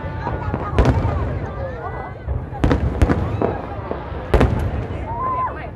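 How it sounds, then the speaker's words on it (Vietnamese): New Year's Eve fireworks at Landmark 81 in Vietnam, with repeated loud booming bursts and crackling pops at irregular intervals, some distant rumble, and people talking in the background. "Âm là tiếng pháo như phình phình."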